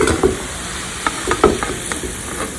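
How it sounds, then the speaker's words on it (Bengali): Birista onions fry in oil until brown for chicken biryani, a close sizzle with repeated stirring scrapes and clinks over a couple of seconds. "বেরেস্তাটা বাদামি কালারের হয়ে গেছে, ভাজা হয়ে গেল"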